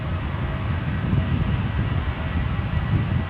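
An Aer Lingus Airbus A320 roars at an airport, its engines producing a steady, broadband rumble that holds loud and even throughout.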